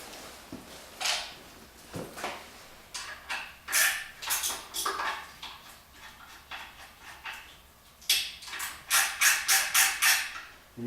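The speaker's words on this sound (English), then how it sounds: "These get torqued down to 50 foot-pounds." Ratchet wrench clicking in repeated bursts while bolts on a V8 Miata build are torqued down to 50 foot-pounds, close and fairly loud, with pauses between strokes and no talk.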